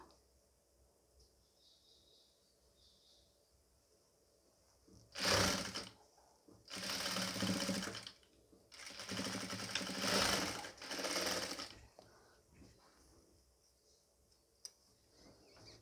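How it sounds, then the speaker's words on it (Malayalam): A sewing machine stitches the folded hem of a nightie in four loud bursts of running stitches, separated by short pauses, with quiet room tone before and after. "നമുക്കൊന്ന് മടക്കി വെച്ച് കൊടുത്തിട്ട് ചേർത്ത് വെച്ച് തയ്ച്ചു കൊടുക്കുക"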